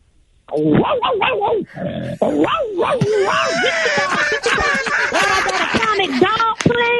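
A man on a radio morning show imitates dogs barking with loud, gruff, rapid barks and yelps, mixed with laughter and excited voices in a lively studio.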